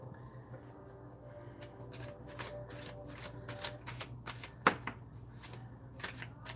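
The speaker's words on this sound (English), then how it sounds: "Card popped up, which usually means stop shuffling." A deck of cards is shuffled during a card reading, giving a run of soft, irregular flicking and slapping clicks, close and quiet, with one sharper snap midway.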